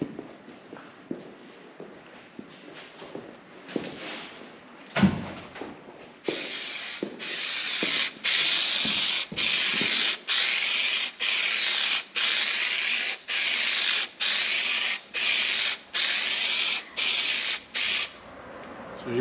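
Aerosol spray glue applied for a headliner install in a 1966 Oldsmobile 442, following some handling and shuffling noises, then a series of about a dozen loud, sharp hissing bursts in a steady rhythm, close up.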